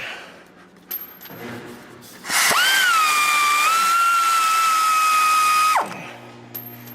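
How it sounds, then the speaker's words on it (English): An air ratchet backing out a 13 mm bolt while removing the starter on a 2019 Ram 3500 6.7L, a loud, steady whining burst of about three seconds between quieter clicks and handling noises. "we got the air ratchet, 13 mil. One bolt out."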